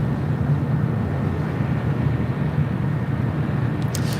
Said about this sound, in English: arrival here on the north side is United Express, SkyWest Flight 5307 coming in from Fresno in an E175LL